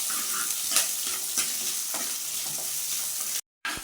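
Onion, chilli and curry leaves sauté in a pan for a small mackerel fish curry, a close crackling sizzle punctuated by repeated scraping and tapping strokes, cut off by a brief silent gap near the end.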